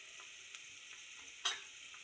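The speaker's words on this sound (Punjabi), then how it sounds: "ਹੁਣ ਇੱਧਰ ਮੇਰੀ ਕੜਾਈ ਗਰਮ ਹੋ ਚੁੱਕੀ ਆ ਤੇ ਮੈਂ ਪਾਉਣ ਲੱਗੀ ਆ ਤੇਲ ਵਿੱਚ ਪਾਵਾਂਗੇ ਜੀਰਾ" Cumin seeds in hot oil in a kadai give a faint, steady sizzling hiss with a few tiny pops and one brief louder crackle, heard quietly with no talking.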